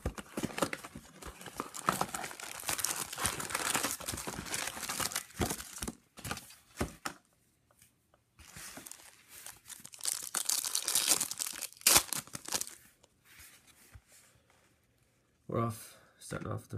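Crinkling and tearing of foil wrappers and shuffling card stock as 2015 Bowman Chrome baseball hobby packs are opened up close, in bursts separated by quiet gaps, with a voice talking at times.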